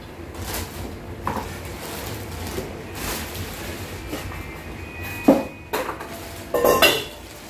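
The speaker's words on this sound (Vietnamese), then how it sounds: "Đây là cái nắp nồi. Nhặt nắp nồi mới rất bóng loáng nha các bạn." A shiny new stainless cookware pot and its lid being handled, giving several sharp metallic clinks and clanks near the end over a steady low background hum.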